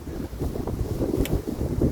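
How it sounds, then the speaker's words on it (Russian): Strong wind buffets the microphone on Lake Seliger, a dense continuous low roar of gusts with a brief higher whistle partway through, loud and close with no talking. "Опять этот ветер."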